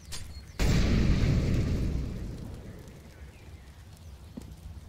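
Incendiary grenade in CS GO landing and igniting with a sudden loud burst, followed by a roaring burn that gradually fades over a few seconds.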